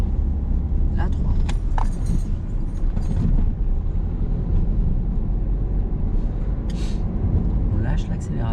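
A car engine revs up steadily after a gear change during a driving lesson, a continuous close drone inside the cabin with occasional small rattles, while people talk over it.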